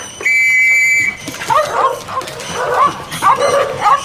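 Dogs bark and yip in a dark Gothic audio drama of Dracula, a loud run of overlapping barks over a scene thick with rats, preceded by a sustained whistle-like tone.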